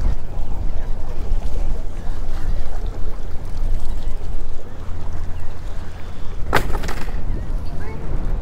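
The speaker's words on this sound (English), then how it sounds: "It's so freaking windy today." Steady, heavy wind rumble buffets the microphone outdoors by the ocean, with one sharp brief clatter near the end.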